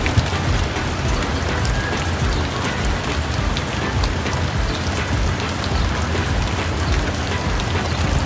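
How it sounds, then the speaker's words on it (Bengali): Steady evening rain falling on outdoor surfaces, a dense continuous patter that stays even and fairly loud throughout, with no voices. "সন্ধ্যা পরে আবারও বৃষ্টি শুরু হলো"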